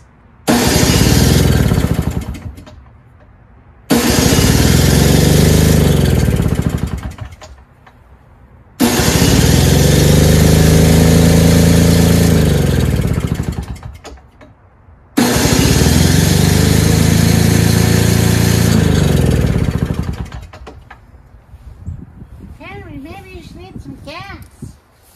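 A free Toro or Craftsman single-stage snowblower engine that had a busted electric start runs loud and close in four long bursts separated by short gaps, then drops to a rough low idle with some talk at the end.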